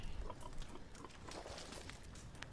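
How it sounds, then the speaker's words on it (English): Wild hog grunting in Red Dead Redemption 2 at night, faint and distant, a few low snorts scattered through a quiet outdoor ambience. "Is that a wild hog I hear?"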